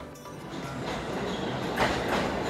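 A New York City subway train arriving underground, a rumbling, rising rush of wheels and rail noise heard fairly close, with no talk.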